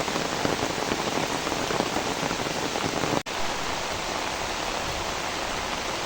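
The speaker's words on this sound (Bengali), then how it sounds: "এই যে মানে বৃষ্টি নামছে" Steady rain pouring outdoors onto surfaces near a duck pond, a dense continuous hiss of raindrops, loud and close, with one brief dropout midway and no voices.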